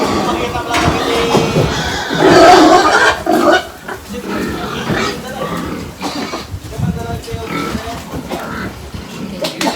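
Pigs grunt and squeal, with one louder burst, while people talk nearby over a busy background.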